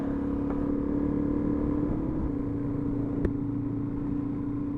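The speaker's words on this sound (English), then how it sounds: "lots of traffic." Steady road traffic rumbles past nearby, a continuous low engine drone with a sustained tone and a brief sharp knock partway through.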